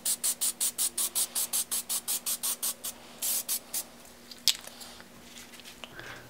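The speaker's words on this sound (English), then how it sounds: "then we're going to hit it with the penetrant dye" Penetrant dye sprayed from an aerosol can onto a Vortec cylinder head checked for cracks, a fast series of about twenty short, even hissing bursts close up, then a few longer sprays and faint handling noises.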